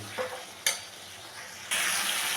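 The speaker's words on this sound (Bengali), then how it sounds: "আমি মশলা আর সবজি একসাথে ভালো করে মিশিয়ে নিলাম আর একটু সবজি আর মশলাটাকে কষিয়ে নেব" Spices and vegetables stirred and sautéed together in a pan for a fish-head dish, giving a soft steady sizzle with a few sharp scraping stirs and a louder burst of frying near the end, no voices.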